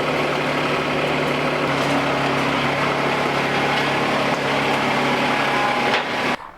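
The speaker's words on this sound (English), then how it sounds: "Pardon the dirt bike racing in the background right now." Dirt bikes racing in the background, a continuous high, buzzing engine whine with a steady droning tone that persists throughout before cutting off abruptly near the end, with no voices.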